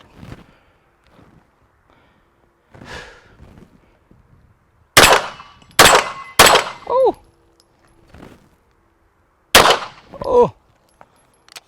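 Springfield Prodigy 9 mm pistol fitted with a Trijicon SRO sight fired at targets, sharp loud cracks with echoing tails, a quick group of three followed later by another shot, with quiet talk between shots.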